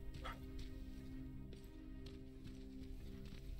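A dog barks in the shooter game Terminator Resistance, giving a few faint, scattered yips over a steady tonal hum and low rumble.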